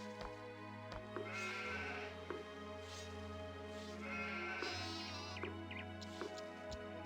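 Sheep in the strategy game Anno 1602 bleat several times, the wavering calls rising over a steady droning game soundtrack with occasional soft clicks.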